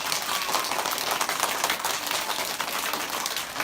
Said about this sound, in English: Can you give yourselves another round of applause, please?